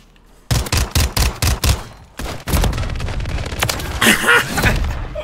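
A Fennec submachine gun fires in a video game: a rapid string of sharp, punchy bursts, then a denser sustained volley with rattling, echoing impacts, loud and up close.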